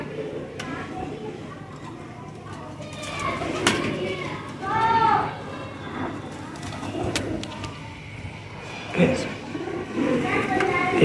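A breeder female pigeon coos in soft, repeated low calls at close range, interspersed with someone talking over it.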